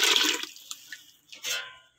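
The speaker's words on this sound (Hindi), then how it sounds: "अब मैं मज़ीद थोड़ा सा पानी इसमें और डालूंगी।" Water splashes into a pressure cooker holding beef trotter broth, with a strong pour at first, then a few drips and a second short splash. Nobody speaks.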